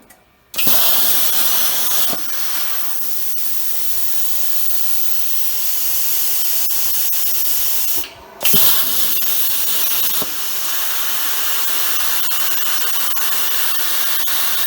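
A JD Garage plasma cutter with a new torch height control cutting corrugated metal, a loud, steady, close hiss that starts abruptly, briefly drops out for a moment midway, then resumes.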